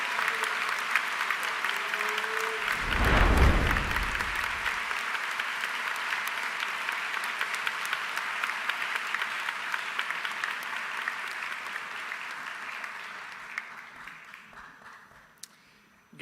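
Sustained applause fills a high school convocation ceremony as a graduate makes his way to the stage, broad even clapping from a large crowd with a brief low thump early on, gradually fading toward the close.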